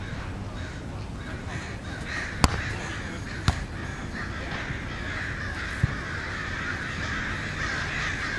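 A crow caws outdoors during a paddle or handball-style game, giving repeated harsh calls at moderate distance over steady open-air noise, with a few sharp ball impacts standing out.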